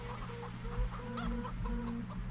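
Hens in Farming Simulator 17 cluck in a series of short, close, moderately loud calls over a constant low farmyard hum.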